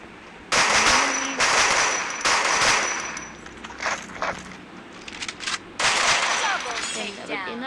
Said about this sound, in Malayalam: ഷോർട്ട് ഗൺ എടുത്തു